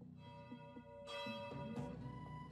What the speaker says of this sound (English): The bells are still ringing.